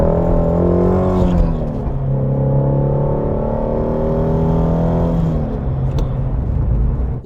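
A Ford Mustang GT350 drives on an open road, its engine rising through a gear, dropping into a steady drone, then revving harder again, loud and close with no talking.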